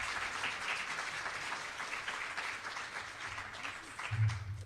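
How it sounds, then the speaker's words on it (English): Quiet, distant clapping from an audience applauding the panel at the close of a food safety culture debate webinar, a steady patter lasting a few seconds. "I think we should give a huge round of applause to everyone up here."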